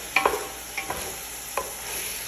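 Chicken and chopped tomato are stirred in a pan, a soft fry hiss under a few light scraping and clinking strokes, close but fairly quiet and brief.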